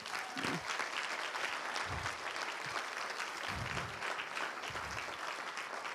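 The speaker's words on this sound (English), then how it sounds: "Give them a round of applause, please." A conference audience applauds the translators in the interpreting booth, a dense, steady wash of clapping from many hands that fills the room, with a few brief low murmurs or voices rising through it.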